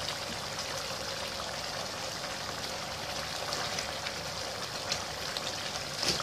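Cumin seeds added to butter in a karahi hiss and sizzle in a continuous, even wash of sound, close and moderate in level, with no voices.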